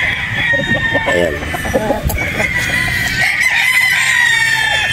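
A Boston Roundhead broodstag rooster crows loudly and close by, giving repeated cock-a-doodle-doo calls mixed with clucking, with wind noise running underneath and some voices in the background.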